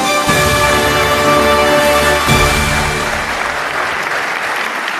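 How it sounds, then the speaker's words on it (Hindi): Audience applause at a televised online talent show, broad steady clapping that swells over the first few seconds, then thins and fades as a musical sting cuts out. "जोरदार तालियां।"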